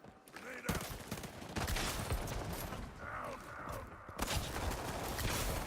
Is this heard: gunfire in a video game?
yes